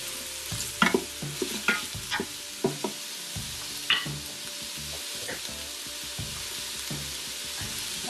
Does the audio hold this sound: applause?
no